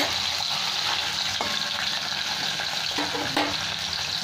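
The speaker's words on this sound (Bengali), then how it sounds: "অল্প অল্প করে দিয়ে ভেজে নিচ্ছে" Bata fish coated in salt and turmeric frying in very hot mustard oil, a steady close sizzle with crackling spatters running throughout, no voices.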